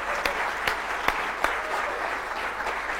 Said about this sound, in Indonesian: Tepuk tangannya lebih panjang lagi.